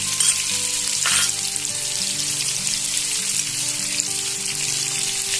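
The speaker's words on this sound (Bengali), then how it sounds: "আদা বাটাটা দিয়ে দিচ্ছি।" Ginger paste sizzles in hot oil in a pan alongside tomatoes, producing a continuous close crackling fry with a brief stirring swell near the start and faint tonal background sounds.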